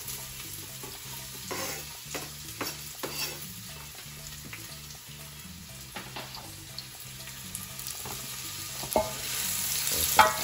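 Onion frying in a pan for fried rice, a continuous close sizzle with stirring scrapes and clinks scattered through, the hiss growing a little louder toward the end, no voices.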